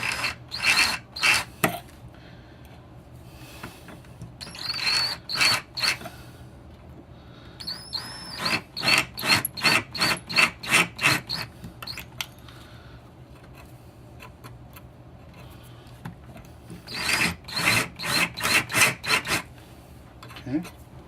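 A 7/32 drill bit countersinks a hole for an airsoft GoPro bracket, giving repeated short bursts of rasping, grinding cuts that start and stop in clusters, fairly close and with no talking.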